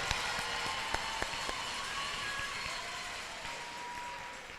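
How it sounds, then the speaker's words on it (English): Audience applause for a graduating class at a university oath-swearing and awards ceremony, a steady, fairly faint patter of many hands clapping throughout, with a few sharper individual claps standing out near the start. "Let's give them a round of applause."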